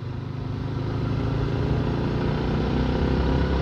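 A motorcycle engine runs with a steady mid-pitched drone that gradually rises in intensity while the rider shifts gears using half clutch, close and continuous with no talking.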